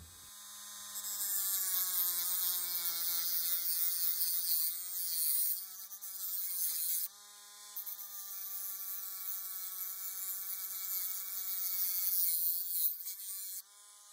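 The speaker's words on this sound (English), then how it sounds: "let's just grind into this thing and make two pads out of it." A rotary tool grinds steadily through the metal housing of a vertical motor from an AHM, IHC or Rivarossi model train, giving a loud, continuous high whine with brief dips and pauses and no talking.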